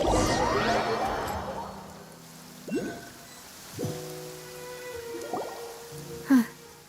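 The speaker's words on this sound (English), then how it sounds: "It's been raining non-stop for a few days now." Steady rain falls in a video game world, a soft constant hiss with a few scattered drips and splashes, loudest at the start and then easing off under tonal music cues.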